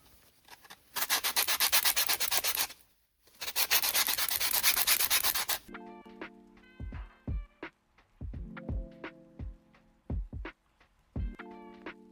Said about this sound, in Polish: więc teraz szlifujemy.